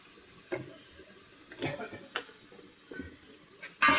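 Mutton curry masala sautéing in a pan, with a low sizzle and a few distinct scraping stirs and clinks, fairly quiet; no talking.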